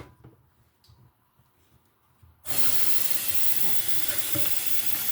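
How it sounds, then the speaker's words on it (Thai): Tap water runs hard over soaked rice being rinsed for grain milk, starting abruptly after quiet handling noises and then continuing as a loud, steady rushing splash. "เปิดน้ำล้างแบบนี้ล้างผ่าน"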